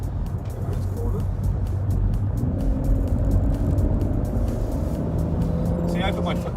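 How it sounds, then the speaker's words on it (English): A BMW M140i accelerates hard through a corner, its engine a loud, close drone that climbs steadily in pitch over rushing road noise. "I put my foot down around the corner and it wasn't too twitchy"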